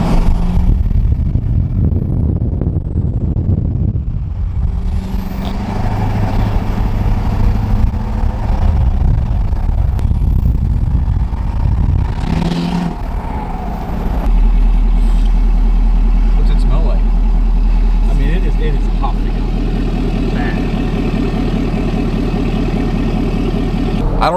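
A Ford 6.7 Powerstroke diesel pickup burning oil idles up close with a steady low rumble, the engine note rising partway through, while a person talks over it.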